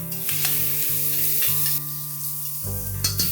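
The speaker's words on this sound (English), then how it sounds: "Now add a teaspoon of garlic paste and a teaspoon of ginger paste. Saute this for a minute." Onions, garlic paste and ginger paste sauté in a pan for chole masala, a steady close sizzle with stirring scrapes and a sustained tonal hum in the background, no speech.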